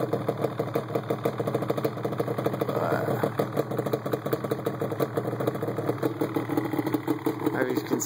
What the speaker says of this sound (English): The idle's nice. It's got older DG pipes on it, so it does have aftermarket exhaust.